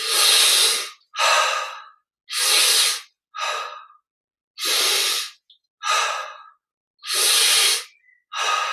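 Deep breathing during a Yogoda energization exercise, a guided meditation recharge technique: about eight close, loud breaths alternate in and out in a steady, unhurried rhythm with short silences between them and no talking.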